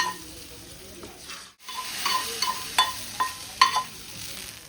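Spice mix being stirred into beef curry in a pan, a low simmering sizzle with several sharp spoon knocks and scrapes against the pan.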